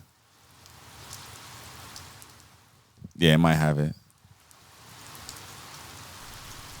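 Steady rain hiss opens the long intro of a 90s song being played, soft and continuous, broken midway by a brief burst of talk before the rain carries on.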